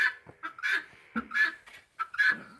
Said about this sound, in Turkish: Ördekler de susmuyor ki.